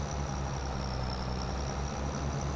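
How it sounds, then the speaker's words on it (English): A farm tractor's engine labours under a heavy trailer load of harvested spinach, a steady low droning rumble with a faint high whine, continuous and fairly quiet throughout. "I hear the tractor struggling a little bit."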